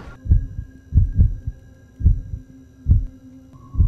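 Heartbeat sound effect in a video game, steady lub-dub thumps repeating about once per second, deep and throbbing over a faint sustained electronic hum, with no talking.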